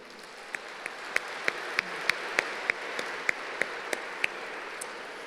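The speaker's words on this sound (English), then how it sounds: "let's give one more round of applause to Tulsa Tech" Audience applause at an aviation and aerospace day event, a faint, steady wash of clapping with a sharper handclap close by landing about every third of a second.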